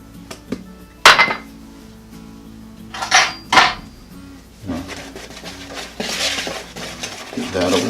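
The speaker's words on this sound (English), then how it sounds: "Give that a whisk." A whisk stirs dry banana bread ingredients (flour, salt, baking soda) in a kitchen bowl, giving several bright clinks and scrapes against the bowl, then a longer stretch of quicker, rustling stirring.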